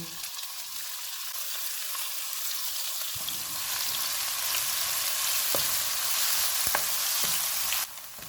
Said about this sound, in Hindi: चॉप किया हुआ 1 प्याज डालेंगे और इसको गोल्डन फ्राई करेंगे।